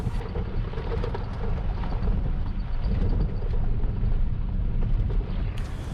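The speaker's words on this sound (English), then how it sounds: "I've just found myself driving along an unremarkable gravel road through fairly unremarkable forest" A car driving along a gravel road through forest, heard from inside as a loud, steady low rumble with rough road noise throughout and no talking.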